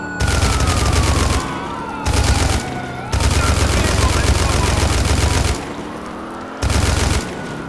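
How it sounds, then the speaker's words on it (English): Loud, rapid gunfire at a fleeing suspect's tires during a police pursuit in GTA IV LCPD First Response comes in four dense bursts of shots, the longest running about two seconds, with short pauses between. "Shoot, his tires. I think I got one of his tires."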